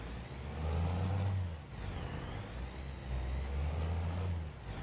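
A truck pulling a trailer in Farming Simulator, a low, steady diesel engine drone rising and falling as it moves, with a faint high whine above, heard alone without talk.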